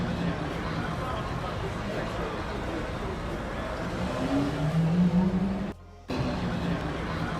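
A Bugatti EB110 supercar passes on a street in Geneva, its engine note rising in a quick, loud sweep through steady crowd and traffic noise, with a short dropout just after it goes by.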